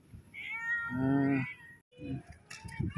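A tabby mother cat meows up close in one long, drawn-out cry, then gives a few shorter, softer calls amid light background noise.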